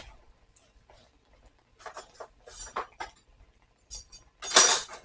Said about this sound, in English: Crack it up. Put it in the bowl. Get whisk.